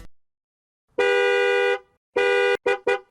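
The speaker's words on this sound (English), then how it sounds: "I must have honked like 4 or 5 times" A car horn honks loudly four times: one long blast, a medium one, then two quick short toots, with silence before the first.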